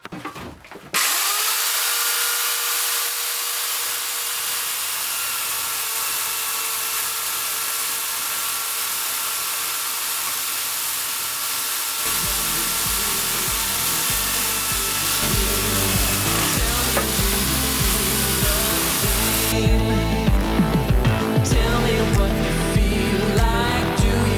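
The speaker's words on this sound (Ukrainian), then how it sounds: "Давайте попробуємо, як буде працювати електропила." A small electric chainsaw, running off a Power Flux portable charging station, whines steadily as it saws through wood, the cuts loud and close with a rougher, grinding texture through the latter half and no talking.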